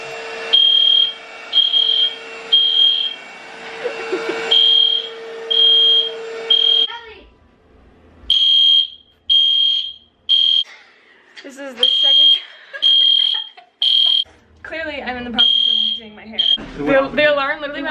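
A household smoke alarm at a wedding trip lodging shrills in repeated sharp beeps, pausing briefly, then resuming loud and close while people talk over and between the bursts.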